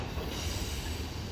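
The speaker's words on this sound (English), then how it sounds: "there go that train, folks, on its way to Jet London Square" An Amtrak Capitol Corridor train pulls away from Emeryville station, a faint, steady rumble of rolling wheels heard from a distance without any talk.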